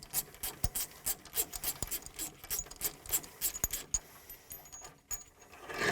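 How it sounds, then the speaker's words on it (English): A wrench loosens a bolt on a Väderstad Tempo seed unit, giving close metallic ratcheting, rasping and clinking scrapes in irregular bursts. "Here you need a 22mm nut to loose this bolt."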